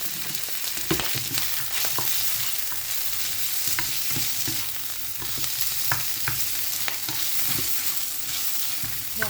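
Pork slices frying and being stirred in a pan, a dense, continuous sizzle with frequent scraping and clinking of the utensil against the pan, close and steady throughout with no speech.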